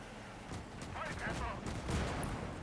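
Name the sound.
howitzer shell hitting a tank in the video game Gates of Hell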